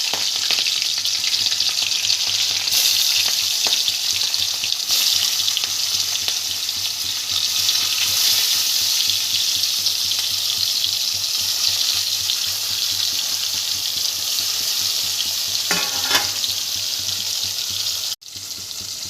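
Hilsa fish fries in oil with green chillies, a loud, steady sizzle and crackle filling the whole stretch, with occasional stirring clinks and a brief sharp cut near the end.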